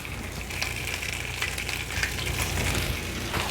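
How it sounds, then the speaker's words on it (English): Salted and peppered spinach sizzles in a hot pan during grilled sandwich prep, a steady, close, dense hiss of frying that holds without a break, with no talking. "You're pretty much grilling the spinach"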